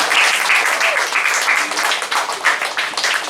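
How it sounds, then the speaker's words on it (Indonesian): Congregation applause at a church parish gathering as newly introduced committee members are honored, a loud, uneven wash of many hands clapping that swells and dips, with a few faint voices underneath. "Mari kita orang berikan tepuk tangan kepada mereka."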